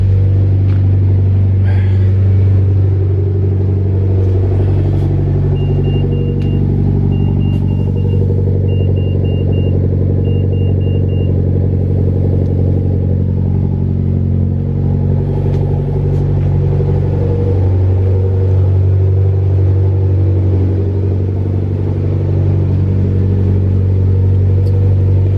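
A car with a racing exhaust idles steadily, a loud, deep, continuous rumble with slight uneven pulsing that holds for the whole stretch, close by and with no talking.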